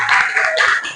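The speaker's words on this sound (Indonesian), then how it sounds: "Oke, tepuk tangan." A classroom of pupils claps hands together on cue, a dense, loud burst of many overlapping claps that fills the whole second without any talk.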